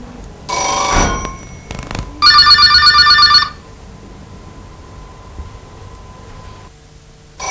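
A telephone bell rings in a strong, rapid electronic trill lasting about a second, preceded by a brief burst of noise, then the room falls quiet with only faint background hum.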